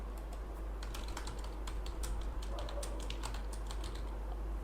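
Rapid keystrokes on a computer keyboard, an irregular stream of light clicks and taps running steadily throughout with a constant low background hum.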